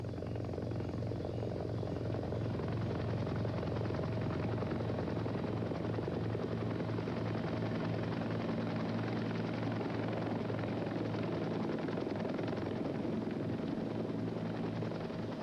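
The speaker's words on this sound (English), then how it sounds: "As soon as the helicopter arrived," Helicopter rotor thumping loud and steady throughout, arriving for a rescue evacuation, with a continuous dense engine roar and no talk over it.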